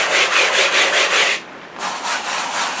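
A hand rubbing across the rough surface of an unprimed canvas board, a close, scratchy sanding-like swish in repeated strokes with a short pause midway.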